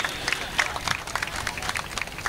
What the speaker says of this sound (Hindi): जोरदार तालियां चौहान साहब के लिए प्लीज